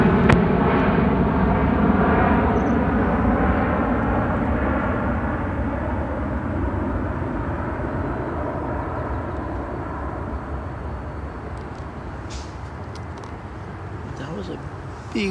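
A Singapore Airlines heavy airliner at Seattle-Tacoma International Airport, a loud, close jet roar that slowly recedes and softens over the whole stretch, with faint voices near the end.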